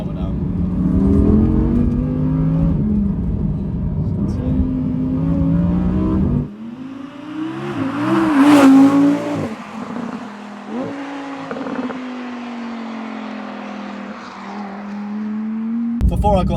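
An Audi R8 V10 on a damp road, its engine climbing through revs with loud, rising, rasping tones, dropping for a gear change, then pulling hard again through further shifts.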